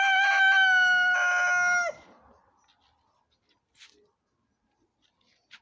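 A rooster crows once, loud and close, a long bright call that breaks off, followed by near silence with a couple of faint clucks.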